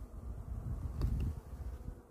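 Honey bees buzz at a hive during February hive care, a low steady drone that swells slightly around the middle of the brief stretch.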